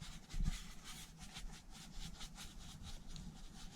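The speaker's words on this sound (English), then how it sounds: "I'm going to take a soft bristle brush to really massage it into all of those little leather creases and crevices." A soft bristle brush scrubs a leather car seat in an Audi 5000 CS Turbo interior, giving quiet, rhythmic back-and-forth rubbing strokes, close and faint, with no talking.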